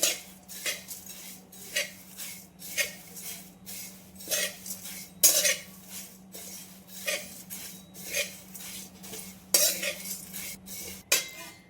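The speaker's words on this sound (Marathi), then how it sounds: "सर्वप्रथम आपण कढईत पोहे घेऊन मंद आचेवर आपण आपल्याला 5 मिनिट भाजून घेऊ" Poha being dry roasted in a kadai over a low flame, stirred with a metal spoon that scrapes and clinks against the pan in steady repeated strokes, close and moderately quiet with no talking.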